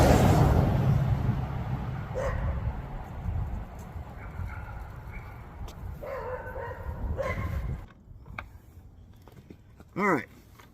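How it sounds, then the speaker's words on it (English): Dogs barking and yipping in the background at an outdoor spot, faint and intermittent under a voice, ending in a single louder whining bark near the end. "I apologize for the dogs."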